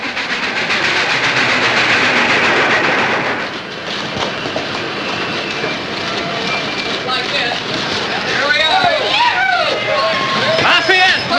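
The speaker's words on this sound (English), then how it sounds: "The train's late." An arriving train rolls in with a loud rumbling clatter, then squealing brakes and screeching wheels as it slows at a station, while a crowd murmurs and voices talk over it.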